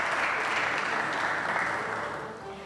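A crowd at an official Colombia–Qatar agreement signing ceremony during the Emir of Qatar's visit applauds with steady, dense clapping that holds evenly and then tapers off at the end.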